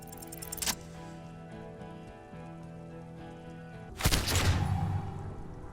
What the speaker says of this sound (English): A plume of smoke and fire erupts from the gun, and your hand goes numb from the explosion.